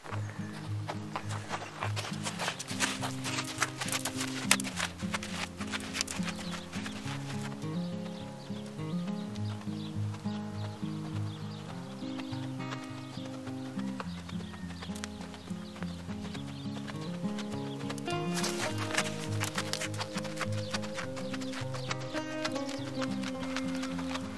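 Ponies walking at a stable on a summer morning: steady, close hoof clip-clops in an even rhythm throughout, with occasional louder hoof strikes and faint background noise.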